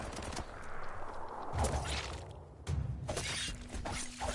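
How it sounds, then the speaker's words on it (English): Gunfire in the Biomutant video game, scattered shots and crackling bursts over a busy action background, fairly faint and not overlapping any speech. "Bullets everywhere"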